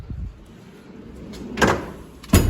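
A drawer on a Mac Tools Macsimizer tool cart slides open with a quick metal rattle, followed by a sharper clunk as it reaches the end of its travel, close by and fairly loud.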